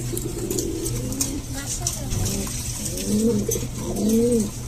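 Red checker pigeons coo in soft, repeated rolling calls close by, with someone talking over them.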